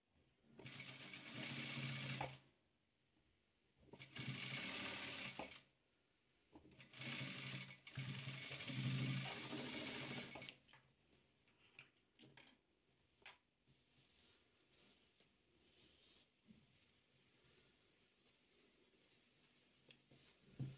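Sewing machine stitching patchwork fabric pieces together, running in three steady bursts separated by short pauses, followed by quieter handling sounds.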